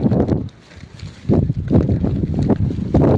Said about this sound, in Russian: Идет дождь, ветер.